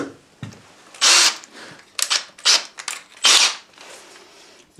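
Drilling into a workbench roller secured with two lock nuts, worked from its second side: a few short, loud bursts of power-drill whine separated by brief pauses, close up with no talking.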